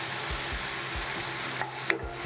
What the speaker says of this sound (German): Jetzt tue ich Zwiebeln und Knoblauch oder Speck anbraten.